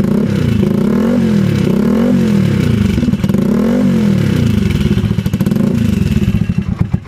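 An inline-four motorcycle exhaust fitted with a silencer that still runs loud: a close, continuous throbbing drone with rising and falling revs and rattly clatter toward the end.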